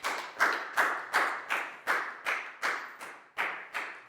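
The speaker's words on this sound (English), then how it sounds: "High five and a big round of applause for Pat, please, guys." A primary school class claps together for a pupil during an English lesson, giving about ten loud, evenly spaced unison claps in a steady rhythm that rings in the room.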